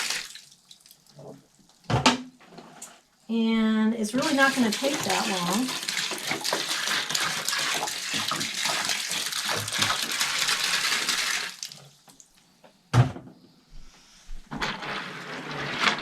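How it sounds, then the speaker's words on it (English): Water pours steadily into sawdust being prepared as a growing medium for shiitake mushrooms, a continuous rushing stream lasting several seconds, with someone speaking briefly before and after. "we're just going to pour it in. And it seems like a lot of water"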